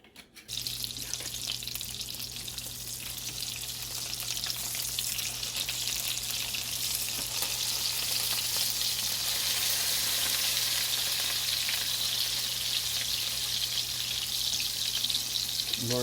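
Breaded pork loin pieces, some double-dipped, fry in extra virgin olive oil in a pan, giving a steady, close, bright sizzle with a faint low hum beneath, continuous and alone for the whole stretch.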